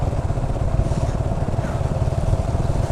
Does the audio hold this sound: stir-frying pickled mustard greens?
no